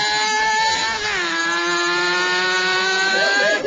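A voice imitates a Suzuki motorcycle going by, a loud continuous engine-like drone with a rising then falling pitch sweep as the imagined bike passes, held alone without other talk.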